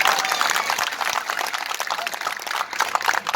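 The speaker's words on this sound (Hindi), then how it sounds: "ताली बजा दो जो लोग समझ गए" Crowd applause at an Uttar Pradesh election rally during an AAP MP's speech, a dense, loud wash of many hands clapping together, sustained without pause from start to end.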